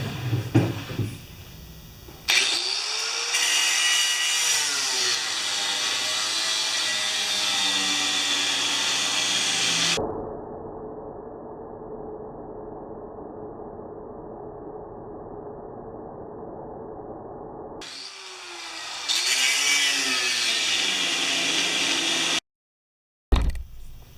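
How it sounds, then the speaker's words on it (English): Power drill or similar motor tool working on the bent augers of a Snowking snow blower: a close, loud whirring that rises and falls in speed in two bursts, with a duller steady hum between them. "You get the drill."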